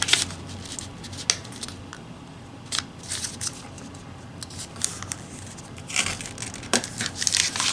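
Paper being folded in half and creased for an origami 3D pumpkin, heard as close, crisp rustles and crinkles with sharp creasing snaps spaced irregularly over quiet background.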